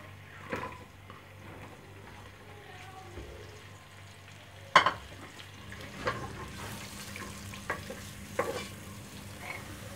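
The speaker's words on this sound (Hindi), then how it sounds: "इसमें अब डालेंगे प्याज" Onions stirred in hot oil for Pakistani keema rice, a faint steady sizzle with occasional scraping clicks of a spoon in the pan.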